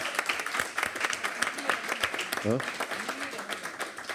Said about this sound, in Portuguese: eu vou pedir uma salva de palmas para a Ana